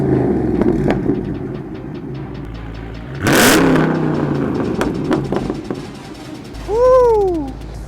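A Dodge Charger Scat Pack with the 392 engine revs hard and accelerates, loud bursts of throttle rising and falling, with a big surge midway and another rising rev near the end, heard close from inside the car.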